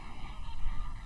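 A large flock of roughly 500 flamingos honks during a courtship display, a dense, continuous clamor of overlapping goose-like calls at steady loudness.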